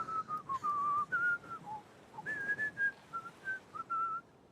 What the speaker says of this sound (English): He's whistling all the tunes of all your favorite 80s shows.